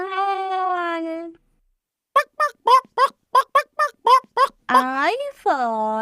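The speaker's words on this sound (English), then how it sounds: "H for hen." A hen clucks about nine times in short, evenly spaced bursts, loud and close, set between sustained tonal sounds that may be a voice or music.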